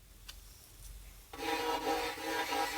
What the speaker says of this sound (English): I learned that rosin like this, when it's new, doesn't come off onto the bow